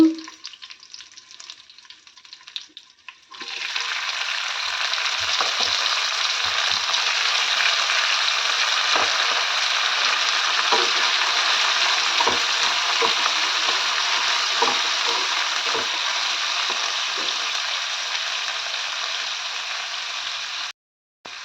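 After a quiet start, a dry tempering of fresh coconut, chana dal, dried red chillies, curry leaves and coriander sizzles loudly and evenly in hot oil for a long stretch, with scattered stirring taps, then abruptly cuts off.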